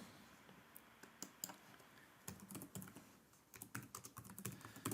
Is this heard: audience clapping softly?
no